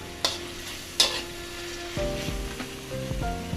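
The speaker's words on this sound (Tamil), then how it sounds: "ஊற்றி கொஞ்சம் நேரம் கொதிக்க வச்சிங்கன்னா முடிஞ்சு" Sauce bubbling and sizzling as it simmers in a cooking pot, with a few sharp clinks of a utensil against metal, close up and fairly quiet.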